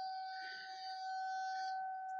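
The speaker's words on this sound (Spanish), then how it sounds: "Está sonando la alarma, van a abrir más las compuertas" A dam's floodgate warning alarm sounds at a freshwater fishing spot, a steady, piercing electronic tone held without a break, faint and distant under soft background noise.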